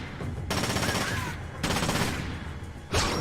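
Bursts of automatic gunfire from the Splinter Cell: Conviction video game, loud and dense, coming in several separate volleys with short gaps between them.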